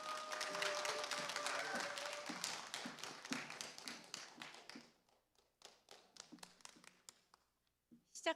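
An indoor audience applauds to welcome a farmers' choir at a talk concert, with dense clapping that thins into scattered claps, mixed with background voices, before a final few claps.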